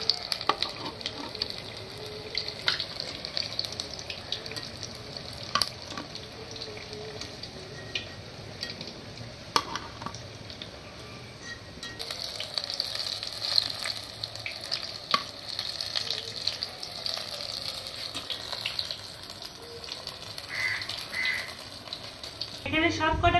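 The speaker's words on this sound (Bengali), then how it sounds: "বাকিগুলো আবার সেম ভাবে এরকম ভেজে নিচ্ছি" Pointed gourd pakoda deep-frying in hot oil gives a steady, close sizzle and crackle with occasional spatters, going on without a break throughout.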